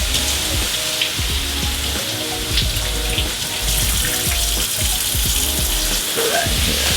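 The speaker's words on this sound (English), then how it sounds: "I'm going to go ahead and rinse this off." Mushrooms rinsed under a running kitchen tap, a continuous close splash of water hitting the food and sink throughout.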